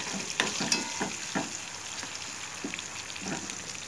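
A tadka with tomatoes frying in a pan for village-style masoor dal, sizzling steadily while a spoon scrapes and stirs in irregular strokes.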